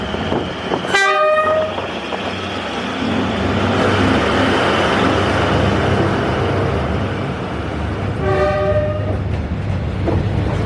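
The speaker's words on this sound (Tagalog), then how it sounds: "Nantay pa namin yung train." A train rumbles loud and close through Hanoi's narrow train street, its horn blaring twice, once near the start and again near the end, over a continuous heavy rolling roar.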